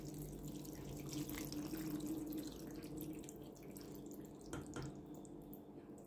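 Hot water pours into a pot over white cabbage rolls stuffed with minced meat, Antep style, a continuous close splashing and trickling that eases toward the end with a few drips.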